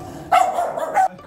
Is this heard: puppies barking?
yes